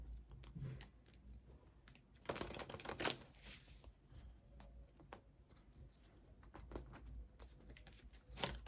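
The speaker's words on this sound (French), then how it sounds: "on va mélanger les cartes" Tarot cards are shuffled softly and close by, a faint run of papery flicks and riffling patters that thickens into denser bursts now and then.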